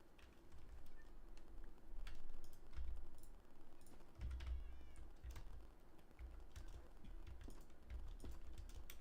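A cat meows in the video game Minecraft, with a few short meows standing out over a steady background of game sounds and soft keyboard clicks.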